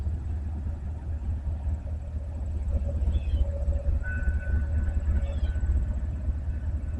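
Coal train approaching Cairo, a low steady rumble of rolling rail cars with faint squeals and a distant tonal hum, building gradually as it nears.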